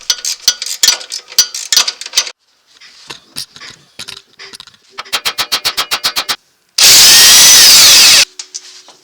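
A wrench works loose the 14mm strut top bolts on a Nissan Xterra during a Bilstein shock and strut swap, giving bursts of sharp, rapid ratcheting clicks, then a loud, continuous mechanical whir near the end.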